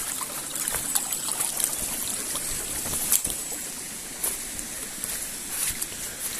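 Rainwater trickles and babbles steadily along a flooded, boggy hill path in the Shropshire Hills, a continuous close stream with a constant hiss and occasional small splashes.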